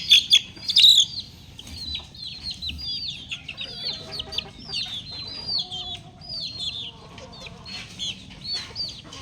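Chickens, including a white hen, cluck and chirp in short repeated bursts close by, with a brief flurry of wings near the start over a quiet outdoor background.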